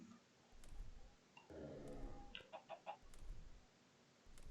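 Minecraft chicken in a modded 1.8.9 game clucking quietly, a short run of four or five quick clucks in the middle amid faint game ambience and soft clicks.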